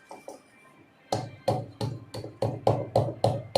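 A series of sharp, regular pounding thuds, about eight strikes in quick succession, close by, after a quieter start with a couple of light taps, as roasted chickpeas are crushed in a wok.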